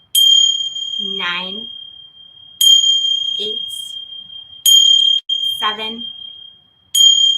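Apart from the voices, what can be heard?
ting sha chimes ringing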